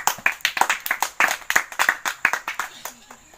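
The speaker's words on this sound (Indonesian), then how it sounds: "Tepuk tangan untuk kelompok 1." An elementary school class claps for a group during an athletics lesson. The claps come in a fast, regular rhythm, close and loud, while children's voices chant along.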